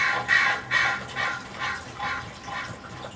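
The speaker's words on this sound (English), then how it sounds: "Oh, it was the crow." Repeated harsh caws from a crow in the video game Dragon Age, about six calls in a rough even rhythm, fairly close and clear with no talk over them.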